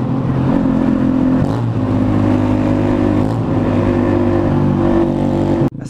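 Yamaha Fazer 250 motorcycle with a straight-pipe exhaust roaring loudly and close, a steady rasping engine note with shifting harmonics that continues nearly without a break before cutting out abruptly at the end.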